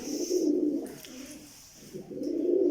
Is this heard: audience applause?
no